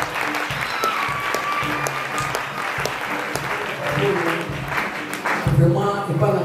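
Congregation applauding at a church installation service, steady clapping filling the room over a continuous background, with voices and music-like tones running underneath.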